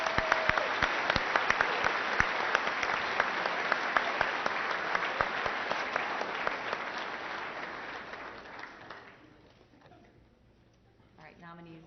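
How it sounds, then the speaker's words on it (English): A large audience at a chamber of commerce awards event claps loudly and steadily for a row of nominees, the dense applause slowly thinning and fading toward the end, with a few voices murmuring under it. "Let's give them all a round of applause."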